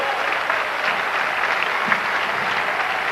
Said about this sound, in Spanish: Den un aplauso al maestro